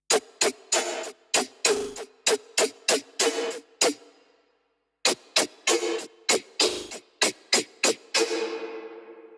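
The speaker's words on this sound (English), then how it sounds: "Now let me play you guys the lead." A preset-based synth lead built in Serum for the electronic track plays alone in short, evenly spaced staccato stabs. It drops out for about a second midway and ends on a longer, fading note.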